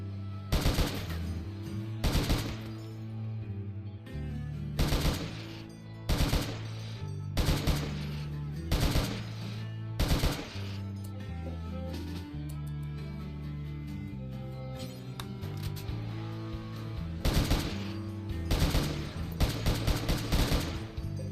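Bursts of automatic gunfire in the video game Rimworld: Odyssey, repeated rapid volleys in clusters separated by short pauses, loud over a low droning musical background.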